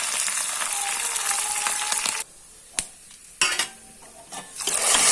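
Tempering (oggarane) sizzling in a pan for a leafy basale thovve dish, a steady broadband hiss that cuts out abruptly halfway, followed by a few sharp clatters and short bursts before the sizzle swells back up near the end.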